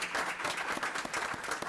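Applause rises from attendees at a village board meeting, a steady, continuous patter of many hands clapping at a moderate distance, fairly soft throughout.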